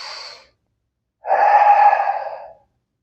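Deep diaphragmatic breathing: the tail of one exhale, a pause, then a long, audible breath drawn close to the microphone, soft and airy, ending in quiet.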